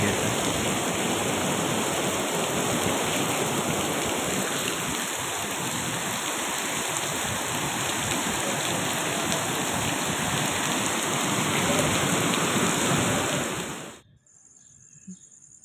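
Heavy rain pours steadily with wind, a dense close hiss that continues for about fourteen seconds before cutting off abruptly.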